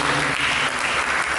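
A church congregation claps steadily throughout, a dense, loud wash of many hands at a Sunday sermon service, continuous without a break.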